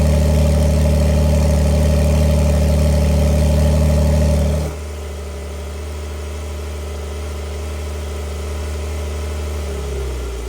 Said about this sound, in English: The exhaust valves open and idle, you get a little bit more sound out of it.